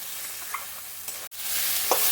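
Prawns hitting hot oil with turmeric, salt, garam masala and bay leaf in a pan, a continuous close sizzle with stirring clatter and a sharp break midway before the frying swells louder.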